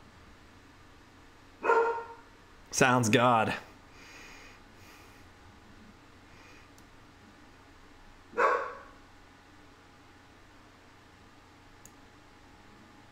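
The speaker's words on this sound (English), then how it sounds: "Oh, there goes my dog." A pet dog barks a few times indoors, a short burst near the start and a single louder volley of barks followed by one more bark later, against a quiet background hiss with a brief muffled voice.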